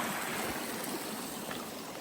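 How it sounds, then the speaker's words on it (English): A mountain stream near the Deer Park Mountain shelter on the Appalachian Trail rushes steadily and close by, a continuous broadband babble of flowing water with no voices. "I'm going to show you this beautiful stream that we just crossed over."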